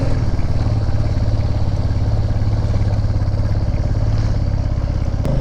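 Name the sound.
motorcycle engine straining up a steep climb in low gear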